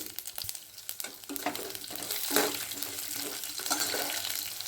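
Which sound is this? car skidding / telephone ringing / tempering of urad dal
tempering of urad dal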